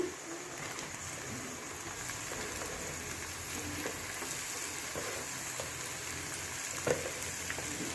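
Seasoning with turmeric fries in a pan for a Telugu green-chili bottle gourd curry, giving a soft, steady sizzle with faint background chirps and one brief clink near the end.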